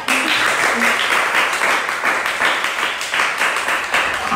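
A crowd claps steadily and densely for a few seconds, a continuous patter of many hands.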